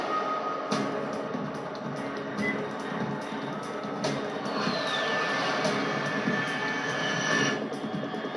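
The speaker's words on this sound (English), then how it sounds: "Unidentified aircraft detected." An aircraft flies overhead in Metal Gear Solid 3 with a steady, moderately loud engine roar. A rising whine passes midway through, and faint sharp ticks sit over the roar.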